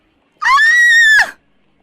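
Little girl screaming in an audio drama of The Strange Case of Dr Jekyll and Mr Hyde, a single loud, sustained, high-pitched scream of about a second, alone and close.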